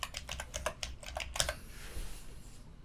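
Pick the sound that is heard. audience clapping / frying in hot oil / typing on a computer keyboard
typing on a computer keyboard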